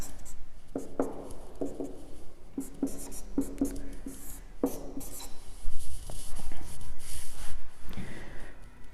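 Numbers being written by hand with a pen on paper, a sequence of short scratchy strokes and taps with some rustling, and no talk.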